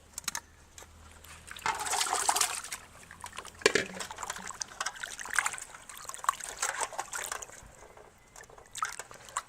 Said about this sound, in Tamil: மஞ்சள் ப்ளஸ் லெமன் இதில் சேர்த்து கடைசியாக கழுவிக்கிறோம்